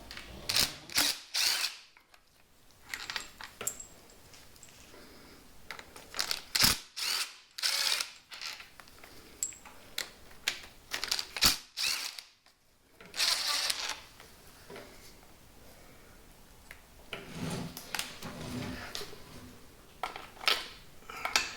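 A ratchet loosens the timing cover bolts on a Land Rover Discovery engine that is being removed, with bursts of rapid clicking at close range broken up by pauses and softer clanks of tools and parts.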